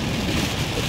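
Steady rain falls hard during a storm, a dense even hiss on surfaces with a low rumble of thunder underneath, close and without voices.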